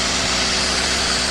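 A Toyota Avanza engine idles with an overheating fault and a radiator run dry, giving a steady, even hum close by with no speech over it.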